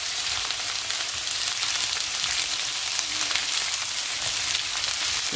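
Spring onions sizzle steadily in a hot pan, a dense, continuous frying hiss that stays close and even throughout with no voices.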